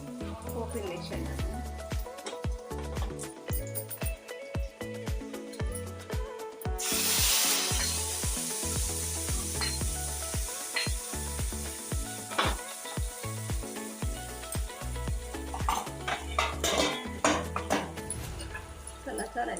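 Spices for a tempering hit hot oil in a pan for a buttermilk-based bachali leaf rasam, a loud hissing sizzle with stirring and scraping while someone speaks over it.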